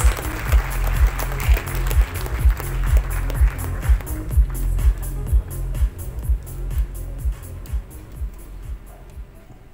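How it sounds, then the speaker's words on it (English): Applause greets an arriving guest at the Bengaluru GAFX 2024 event, a crowd clapping steadily with a pulsing rhythm that fades gradually. "Everybody, a bigger round of applause for him, please."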